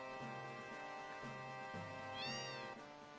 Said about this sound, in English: We can make them meow, but we can't take them with us.